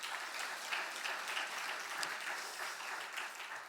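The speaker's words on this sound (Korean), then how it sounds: "우리 격려의 박수 한번 보내시겠습니다." Congregation at an early-morning church service applauding in encouragement, a steady wash of many hands clapping at moderate distance, sustained and even throughout.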